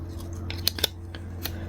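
Scissors snip through fabric lining for a bag in several short, crisp cuts spaced irregularly, close and fairly quiet over a low steady hum.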